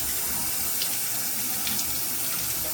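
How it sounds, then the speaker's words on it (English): A kitchen or bathroom tap runs steadily as a shaving brush is wetted under it, a close, even rush of falling water with no speech. "let's get this brush wet and get it loaded."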